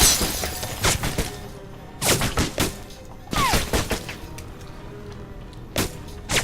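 Gunfire in the video game Alpha Protocol: several sharp bursts of shots in quick clusters, loud and close, separated by brief quieter gaps with faint game ambience.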